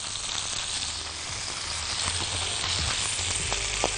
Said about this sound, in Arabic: عايزة وهم بيتشوحوا كده